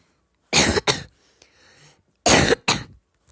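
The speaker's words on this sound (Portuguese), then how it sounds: "Tô tossindo pra caramba, galera" Two pairs of loud, close coughs, each a quick double burst, separated by a brief quiet gap with a faint throat sound.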